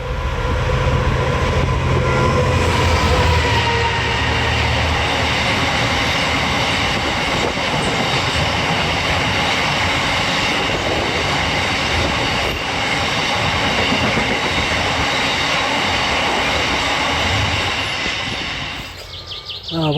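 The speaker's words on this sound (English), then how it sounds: "If you like trains, then here's what one of these looks like." A long train of about twenty wagons rolls past close by in the Edale countryside, a loud continuous rumble with rhythmic clickety-clack of wheels and faint squealing, holding steady before tailing off near the end.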